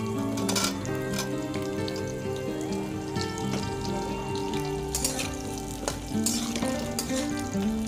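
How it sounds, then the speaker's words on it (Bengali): Drumsticks (moringa pods) frying in hot oil while being stirred in a pan, a steady crackling sizzle with sharper scrapes and clatters of stirring throughout, over a background of music. "তেলটা গরম হলে আমি সজনে ডাঁটাটা দিয়ে দেবো, দিয়ে নাড়াচাড়া করবো"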